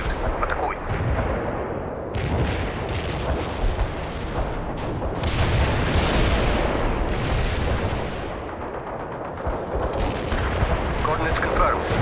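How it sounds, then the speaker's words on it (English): Artillery fire in the World in Conflict video game, with repeated booms and blasts layered over a dense rumbling battle din, loud and continuous throughout. "You have incoming artillery again, Romanov."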